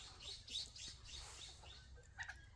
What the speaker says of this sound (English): my chickens are being loud.